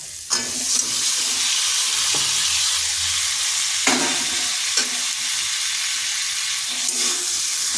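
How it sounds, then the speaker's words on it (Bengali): Chunks of pumpkin sizzle in a pan of freshly cooked spice paste, a constant close frying hiss broken by the scrape and clatter of a spoon stirring every second or so. "মশলাটা কষানো হয়ে গেছে, এরপর দিয়ে দিচ্ছি কুমড়োটা"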